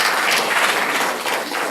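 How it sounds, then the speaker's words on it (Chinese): Audience at a sustainability forum applauding, a dense, steady wash of many hands clapping at once that fills the whole moment without a break. "Your applause, please."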